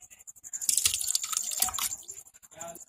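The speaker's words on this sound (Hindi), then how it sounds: "यहाँ पे हमारे टमाटर जो है वो बिल्कुल ठंडे हो चुके हैं, तो इसको हम डालेंगे जग के अंदर" Chopped tomatoes, cooked and cooled, drop and squish wetly into a blender jug in a home kitchen, a few soft splashy plops close up over about three seconds.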